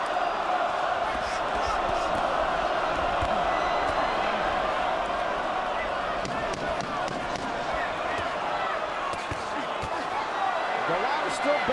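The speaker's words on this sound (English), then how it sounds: "And pretty mixed reaction from the crowd." Boxing arena crowd at the Golota vs Chris Byrd fight giving a mixed reaction, a sustained loud roar with scattered shouts and thumps.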